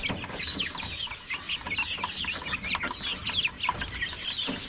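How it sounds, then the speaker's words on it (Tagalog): Rhode Island and Black Australorp mix chickens cluck and chirp continuously, several birds at once, close and fairly loud, with a constant background hum. "Malaki na yung mga manok naman dito."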